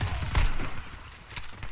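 A short burst of gunfire in the game Warface, a couple of sharp shots with a dull boom early on, fairly loud, and no talking.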